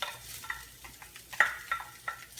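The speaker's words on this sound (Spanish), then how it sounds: "Vamos a empezar a revolver." Beef picadillo with potatoes and browned onion is stirred in a frying pan, the spoon scraping in quick irregular strokes over a soft sizzle of frying, close up with no voices.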